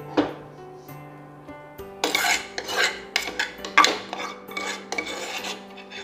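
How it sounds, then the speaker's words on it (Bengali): A spoon scrapes and clinks cooked, softened tomatoes into a steel mixer grinder bowl, with a few separate rubbing, scraping knocks coming close together and fairly loud after a quiet start. "এইবারে সব টমেটোটা নিয়ে মিক্সির একটা বোলে দিয়ে দিচ্ছি"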